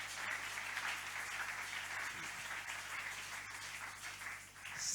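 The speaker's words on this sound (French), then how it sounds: "On applaudit pour le Seigneur." Congregation in a church service applauding for the Lord, a steady wash of hand clapping at moderate distance that holds evenly throughout without any talk over it.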